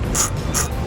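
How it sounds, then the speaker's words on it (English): An 11mm socket on a ratchet loosening heat shield nuts on a 2013 Jeep Patriot, three quick bursts of clicking pawl heard close and clear, evenly spaced. "I'm going to be using a 11mm socket"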